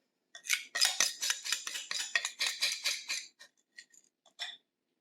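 Cornmeal batter being scooped and scraped into a baking pan with a metal utensil, a quick run of clinking, scraping strokes for about three seconds, then a few scattered taps.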